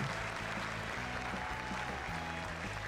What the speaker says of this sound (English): applause breaks out around the room